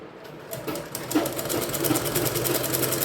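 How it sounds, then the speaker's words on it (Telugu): Sewing machine stitching a folded-over blouse hem during a tailoring lesson, running in a steady continuous whir of needle strokes that rises slightly after the first half second, close and clear with no talk. "ఇలా ఎత్తి మడిచేసి పైనుంచి కుట్టు పెట్టాలి"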